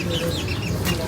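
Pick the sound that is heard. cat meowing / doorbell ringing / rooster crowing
rooster crowing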